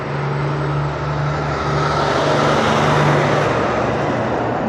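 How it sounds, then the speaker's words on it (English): A road vehicle, likely a truck, rumbles past at steady close range, with a broad engine and tyre roar that swells slightly toward the middle and holds without talk. "Here comes the same truck again."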